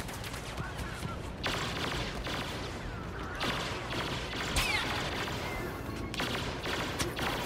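Gunfire in Star Wars Battlefront on an Outer Rim map crackles as dense, continuous blaster bursts and impacts, with sharper volleys standing out over the steady battle din.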